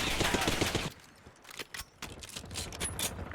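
Gunfire in the video game Call of Duty: Black Ops 6: a dense rattling burst of automatic fire at first, then sporadic sharper shots and crackles at a lower level.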